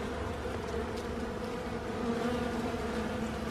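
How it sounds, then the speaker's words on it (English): A dense, steady hum of many bees buzzing around an opened beehive box, a continuous close drone without pauses or speech. "There's still lots of bees though"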